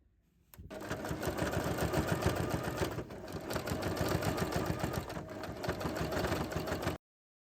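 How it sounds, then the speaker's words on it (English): A sewing machine top stitches a handbag handle to the main panel 2 mm from the edge, running as a steady, fast, continuous mechanical whir with a short pause partway through, close and alone. "prepare to top stitch 2 mm from the edge"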